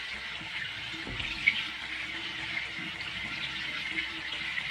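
Water running steadily from a tap while a crochet face scrubbie is wetted, a continuous close hiss and splash holding steady throughout with no talking.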